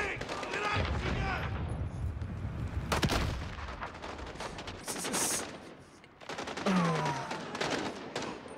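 Gunfire in Call of Duty Modern Warfare: dense rapid bursts of shots and explosive booms rolling on almost continuously, loud and close, with a player's voice talking over the game sounds.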